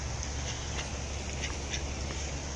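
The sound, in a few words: goose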